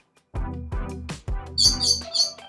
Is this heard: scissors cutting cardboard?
no